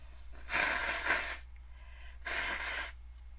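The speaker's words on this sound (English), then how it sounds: "So sorry about blowing my nose" Someone blows their nose twice, two breathy honking bursts close to the microphone separated by a short pause, over a low steady hum.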